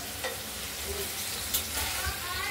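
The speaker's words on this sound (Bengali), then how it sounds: "পিসগুলোকে ভেজে নেওয়া হচ্ছে। একটু ধীরে ধীরেই ভাজতে হবে" Paneer pieces fry slowly in a pan for a potato and paneer curry, giving a soft, steady sizzle with a few light stirring scrapes, close and fairly quiet, with no talking.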